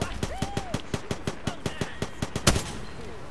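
Automatic weapon fire in the Apex Legends battle royale video game: a rapid, evenly spaced string of about a dozen sharp shots, close and steady, with one heavier blast near the end.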